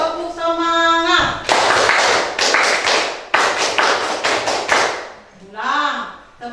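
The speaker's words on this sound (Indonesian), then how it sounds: "Oke, kita tepuk semangat dulu kalau gitu." A group performs a rhythmic spirit clap (tepuk semangat) in a class or training session, with loud unison claps in quick patterned bursts that come after and before a spoken voice.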